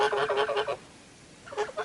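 Domestic geese on a smallholding give a rapid series of loud, nasal honks nearby, then pause before another short honk begins.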